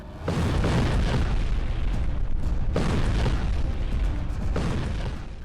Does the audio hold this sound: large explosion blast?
yes